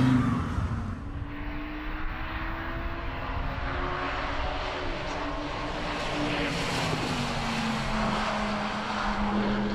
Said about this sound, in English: The sound of thunder comes not always from the skies. In this case, it comes from a 10-cylinder motor